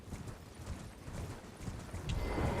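A horse gallops in the Elden Ring video game, its hooves making a steady, rapid clip-clop that sits fairly low under a busy background mix.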